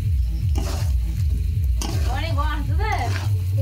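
Onions frying in a pan for chicken curry, a loud close sizzle with rhythmic scraping strokes of a spatula and someone talking over it.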